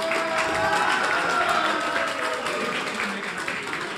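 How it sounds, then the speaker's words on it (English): Clapping and cheering from a crowd filling a room at a live Intel overclocking competition event, a steady, dense wash of applause and crowd noise lasting throughout. "I'm hearing some clapping in the room"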